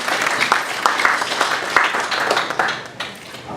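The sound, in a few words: audience applause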